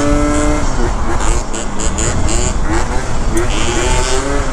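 A BMW M5 car drives past on a freeway, a loud steady engine roar with shifting pitch, close and continuous, with a voice talking over it.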